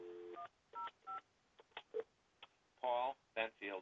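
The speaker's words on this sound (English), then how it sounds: "Now, let me call extension 105." Telephone keypad DTMF tones dialing an office phone extension, a quick string of short beeps at uneven spacing, close and fairly quiet, with a few soft clicks among them.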